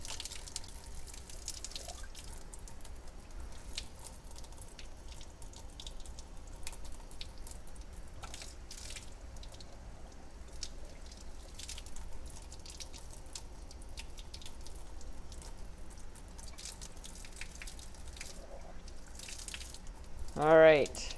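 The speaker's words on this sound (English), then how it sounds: "I'm going to turn this upside down and open up the stopcock." Soapy water trickles faintly out of an upside-down glass burette through its open stopcock, a soft steady drip and drain under quiet room noise, with a brief louder splash near the end.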